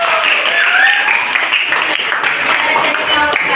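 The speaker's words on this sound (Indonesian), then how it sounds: "kita beri aplaus untuk kelompok" Applause from a group of seated participants at an Indonesian work-performance session, a steady wash of clapping lasting the whole moment, fairly loud and close, with faint voices mixed in beneath it.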